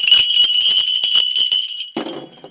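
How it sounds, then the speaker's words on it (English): Old sleigh bells shaken and jingling close by in a quick, bright tinkling run that thins out and fades near the end. "some sleigh bells"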